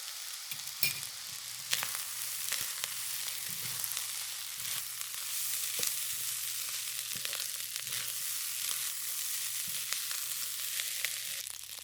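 Double black soy sauce hits seafood curry fried rice in a hot pan, giving a steady frying sizzle broken by frequent clicks and scrapes of stirring, with no talking.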